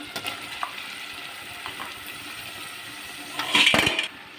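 Prawns fry in a pan with a soft, steady sizzle, and cucumber pieces are tipped in near the end, giving a brief louder hiss and clatter before the frying settles.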